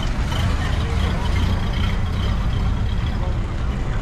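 Ford Model A club cars pulling out at Supercar Sunday, with a steady, loud rumble of old engines close by and a crowd murmuring throughout.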